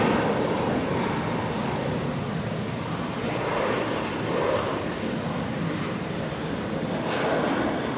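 A Virgin airliner, flight 920 bound for Sydney, rolls out for takeoff at Brisbane airport, its jet engines a steady broadband roar that holds loud and even throughout.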